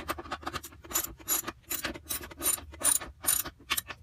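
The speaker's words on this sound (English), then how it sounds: "I'm using a 3/8 inch socket wrench to tighten up these bolts in the back of the toilet" A 3/8 inch socket wrench ratchets bolts at the back of an RV toilet, a close run of repeated clicking bursts in an uneven rhythm, alone without speech.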